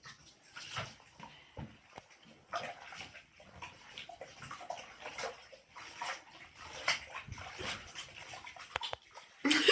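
Water sloshing and splashing as a dog is bathed in a tub, soft irregular splashes and trickles at low volume, with occasional faint animal noises and a louder splash at the end.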